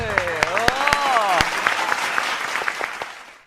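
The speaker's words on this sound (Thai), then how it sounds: "ปรบมือ" Audience applause at a Thai competition show for blind contestants, with a few sharp individual claps at first, then dense clapping that fades gradually; a voice sounds briefly over the start.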